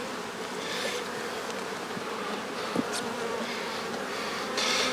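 Honey bees at an open hive drone in a steady close buzz, with individual bees passing by the microphone now and then as the colony is fed and expanded.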